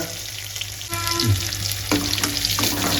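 Chopped onions sautéing in hot oil in a pan for a Tamil fenugreek-leaf kara kuzhambu, a steady close sizzle with a few stirring scrapes and clinks, no talking.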